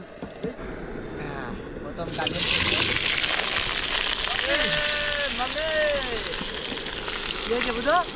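Heavy monsoon rain pouring onto a new wooden river boat in the Sundarbans, a dense steady hiss that swells after a couple of seconds, with people talking over it.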